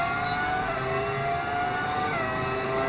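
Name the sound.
F1 car engine sound in video game, V10 mod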